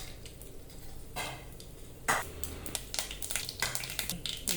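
Half a spoon of mustard seeds goes into hot oil and crackles and pops close up, with a dense run of sharp sputters that build toward the end and a faint hiss underneath.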